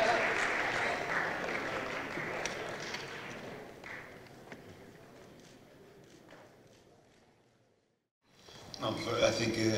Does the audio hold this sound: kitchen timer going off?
no